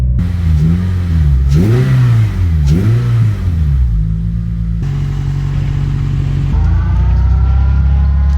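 Toyota MR2 Spyder with a swapped 2AR engine revving hard several times through a newly welded exhaust, loud and close, then settling into a deep burbling idle.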